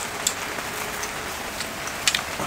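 Steady rain falling outdoors, a soft continuous hiss with a few sharper drop ticks, fairly faint and with no voices.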